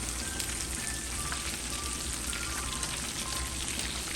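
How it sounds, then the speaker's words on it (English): Mustard-coated tilapia fillets frying in oil, a dense continuous sizzle and crackle with scattered pops, close and steady, with no voices. "Crispy Mustard Fried Fish"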